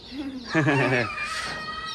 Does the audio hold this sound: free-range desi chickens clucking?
yes